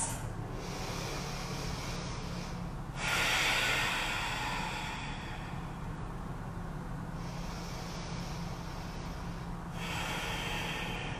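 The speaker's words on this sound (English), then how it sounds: "Just take a few breaths." Slow, deep breathing at the start of a standing power yoga flow with hands at heart: several long, airy breath cycles, close and steady, with no talking.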